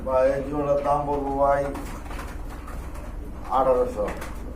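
A pair of large Lahori pigeons coo in close, throaty bursts: one long rolling call, a quieter gap, then a second coo near the end, amid faint background noise.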